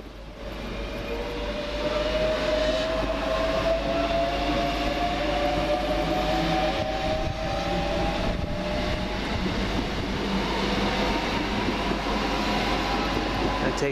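A Great Northern Class 365 electric train pulls out of St Neots station toward London King's Cross, a loud, steady rumble with a rising motor whine that builds over the first seconds and then holds as it departs.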